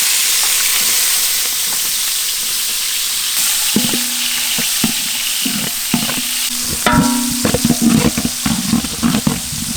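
Sliced onions fry in a pan for a village-style beef tail soup, with a constant loud sizzling hiss and, later, rhythmic scraping and clacking as they are stirred, close up with no speech.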